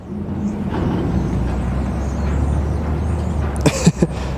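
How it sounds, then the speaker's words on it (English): Garbage trucks rumble loud and steady beside an airport in Phoenix, a heavy low drone with a burst of hissing and clanks near the end, and no voices. "But I apologize if you can hear all the garbage trucks. They're incredibly loud."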